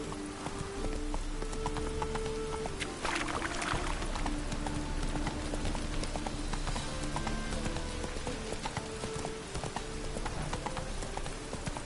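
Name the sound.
horse Roach trotting hooves in a video game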